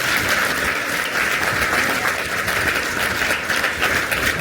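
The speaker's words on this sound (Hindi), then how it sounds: "तो सभी बच्चे एक बार ताली बजाएंगे सरपंच के लिए।" Schoolchildren at a youth panchayat event clap for the village head, a continuous, loud, even burst of group applause that holds steady throughout with no talking.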